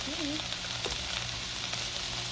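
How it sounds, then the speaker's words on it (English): Seasoned peppers with oregano sauté in a pan, giving a steady, close sizzling hiss that runs throughout with faint stirring scrapes. "Stir it up, saute till it's soft."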